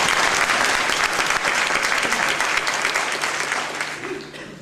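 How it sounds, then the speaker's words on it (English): A forum audience gives a sustained burst of dense applause, loud and steady throughout before tapering slightly toward the end. "It's good to hear the applause here."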